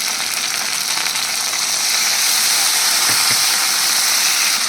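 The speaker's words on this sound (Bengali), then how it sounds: "আদা আর জিরে আর লঙ্কা পেস্ট করা হচ্ছে" Ginger, cumin and chili are ground into a paste with a little water, giving a loud, continuous whirring hiss of grinding that holds steady throughout.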